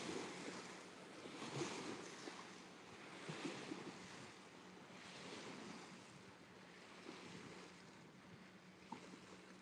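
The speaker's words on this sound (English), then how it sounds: "The waves breaking is what I want to show you." Ocean waves break in slow repeated surges with wind noise buffeting the microphone, distant washes of surf rising and falling with no talking.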